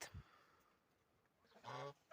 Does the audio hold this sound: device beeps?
no